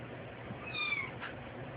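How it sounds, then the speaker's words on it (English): A cat meows once, a short rising call heard softly against a low steady background, in a home where a mother cat is nursing a bird. "The cat is under you."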